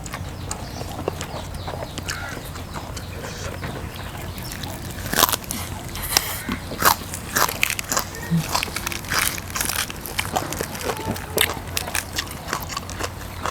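Crisp, dry crunching bites into toasted crispy lin fa eaten with sticky rice, irregular sharp crackles repeating close to the mouth, louder toward the second half.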